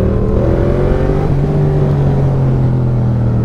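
A Yamaha Tracer 700 or MT-07 motorcycle engine hums steadily with a slight rise in pitch as the throttle opens, a continuous close-up drone with no talking.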